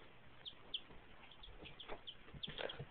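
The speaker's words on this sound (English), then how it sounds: "That's a hen." A hen on a homestead clucking softly in short, irregular bursts, fairly faint and close, over low background noise.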